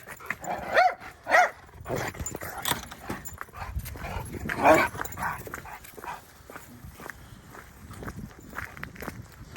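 Excited dogs on a farm whimper, yip and bark as they get ready for a morning walk, with footsteps and shuffling close by and bursts of vocalising scattered throughout.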